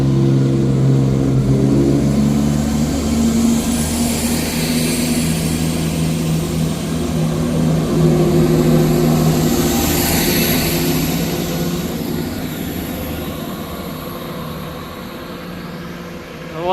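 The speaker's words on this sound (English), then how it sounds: "Departing out now is the 1229 Scotrail service from Edinburgh Waverley to Leven." ScotRail passenger train pulling out of Inverkeithing station, a loud engine rumble and rising hum with wheel and rail noise that slowly fades as it moves away.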